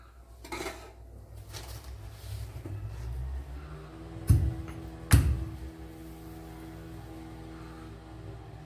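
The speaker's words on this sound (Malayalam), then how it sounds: "അപ്പോൾ ആദ്യം വെളുത്തുള്ളി ചതച്ചെടുക്കാം" Garlic cloves are crushed for gooseberry pickle: two sharp, heavy pounding knocks ring out close by about a second apart, amid faint kitchen clatter and no talk.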